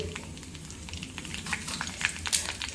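Cumin seeds and curry leaves sizzling in hot oil, a quiet close crackle with small popping spits scattered across the moment.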